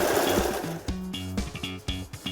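A sewing machine stitches a buckram strip onto a salwar in several short, close runs of rapid humming clatter that start and stop, with no talking.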